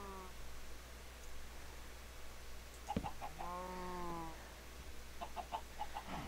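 Minecraft chickens cluck in short, faint bursts, a few scattered calls and a drawn-out cluck midway, over a low steady hum with no one speaking.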